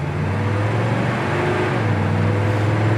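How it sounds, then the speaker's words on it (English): A 1969 Chevy El Camino engine pulls hard from inside the cab, a loud steady drone that dips and climbs again through a smooth gear change. "Nice smooth shift."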